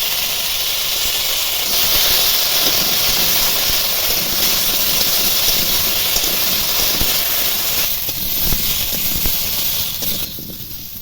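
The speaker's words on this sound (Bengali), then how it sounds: "এবার ওই তেলের মধ্যে আলুগুলো ভেজে নেব।" Potatoes frying in hot oil in a wok: a loud, steady, close sizzle and hiss that runs throughout and eases slightly near the end.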